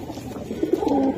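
An Indian Chini Kaldom pigeon, one of a pair sitting on eggs, gives a brief soft coo that rises into a short throaty warble, close by and on its own.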